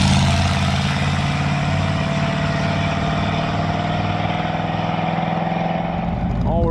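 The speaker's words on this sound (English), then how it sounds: "Just sounds like we're beating on it because it has no mufflers." Junkyard Chevy Impala wagon with no mufflers, its engine running loud and raw with a steady rumbling drone and rough low-end throb throughout, rising slightly toward the end.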